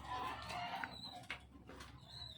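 A racing pigeon from 2009 coos softly in a few low, rounded calls, close by and quiet against faint background noise.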